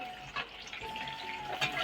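Fish sizzles steadily in a hot pan in a home kitchen, a continuous close hiss of frying with a faint steady tone running underneath and no talking.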